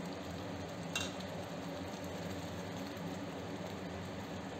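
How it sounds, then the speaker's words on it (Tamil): Manathakkali tamarind curry bubbles in a pot after the tamarind goes in, a steady, soft simmering hiss with faint bubbling that stays even and close throughout, with one brief sharper sound near the start and no talking. "புளி ஊற்றி கொதிக்குது குழம்பு"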